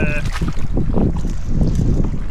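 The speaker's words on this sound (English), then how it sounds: "that headwind's worse than I thought it was going to be" Strong, gusty headwind on a Scottish loch roars and buffets the microphone, loud and close, with water and canoe noise churning underneath and no speech.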